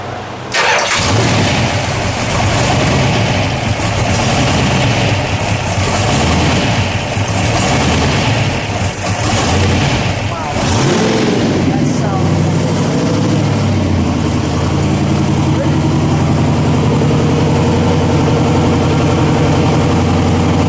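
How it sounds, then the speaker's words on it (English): A 1963 Plymouth Savoy with a 426 Max Wedge V8 rumbles loudly at idle after starting, with several hard revs rising and falling through the first half before it settles into a steady, close, lumpy idle. "We'll let it idle. We'll step on the brakes, Richard,"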